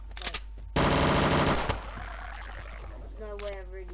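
An M9k handgun in the Garry's Mod game fires a short loud burst of shots, followed by a decaying tail and then quieter ambient sounds; a voice speaks faintly near the start.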